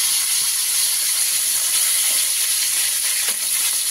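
Potatoes frying in hot oil alongside jackfruit give a steady, loud, hissing sizzle that carries on without a break and without talk.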